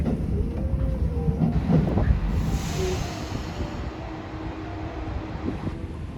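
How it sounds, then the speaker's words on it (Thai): A train on a private local railway line in Ibaraki, Japan, rumbles steadily nearby, with a low mechanical drone and some faint clatter and hiss, and no voices. "เราก็กำลังรอรถไฟ สายคันโตเทสโดนะคะก็หรือคันโตลายเวนะคะเป็นรถไฟสายเอกชนค่ะ"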